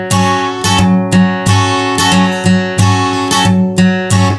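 Close, loud acoustic guitar strumming in a steady rhythmic pattern of repeated down and up strokes, with evenly spaced chord hits and no voices.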